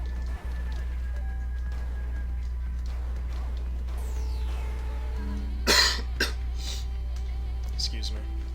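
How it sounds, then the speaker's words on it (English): A person playing a speedrun of the video game Axiom Verge gives one short harsh cough, then a smaller follow-up, over a steady low electrical hum and faint game sounds. "Still getting over a little bit of a cough."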